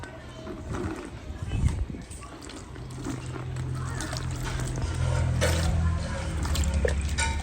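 Tie-dyed fabric being washed by hand in water, with close splashing, dripping and sloshing over a steady low hum, fairly quiet throughout.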